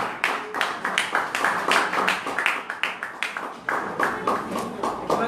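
A church congregation claps for the youth group during a service, brisk uneven hand claps filling the room, with a voice talking over them now and then.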